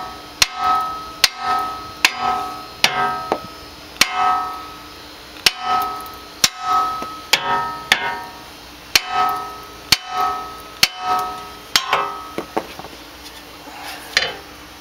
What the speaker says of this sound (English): small sledgehammer or your regular hammer, and you want to shock it here on this, the knuckle right where the tie rod goes in here